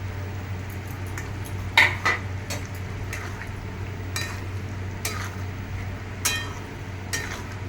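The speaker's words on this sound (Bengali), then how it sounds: "এবার আমি এর মধ্যে যে সোয়াবিন আলুটা ভেজে রেখেছিলাম এবার আমি সেগুলো অ্যাড করে দেবো" Fried soybean chunks and potato pieces tipped into a pan of green soybean curry and stirred, with a spoon scraping and clinking against the pan in scattered sharp strokes over a steady low bubbling simmer.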